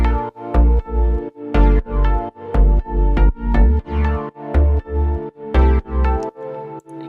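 Deep house synth parts layered together in FL Studio, rhythmic pumping chords over a heavy bass pulse, swelling and ducking in a steady repeating pattern with no voices.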